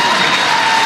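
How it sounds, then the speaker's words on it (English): A large crowd at a political rally cheers and applauds in a continuous, dense wash of noise, steady and loud throughout the brief moment. "People cheer."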